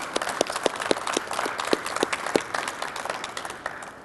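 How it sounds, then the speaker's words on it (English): An audience claps at a mayor's renewable energy announcement: a moderate round of applause with sharp, distinct claps standing out in a steady rhythm before slowly tapering off. "Let's clap for that, because that's pretty cool"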